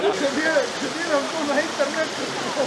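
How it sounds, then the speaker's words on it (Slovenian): A waterfall on Bohor mountain rushes in a steady, dense roar, with bright bird chirps and a faint voice over it. "Kar lep slapej."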